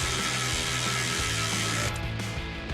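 Battery-powered ratchet with a 3/4 socket snugging down steering stabilizer shock bolts on a Ford F-250, a continuous close whirring buzz that eases off near the end.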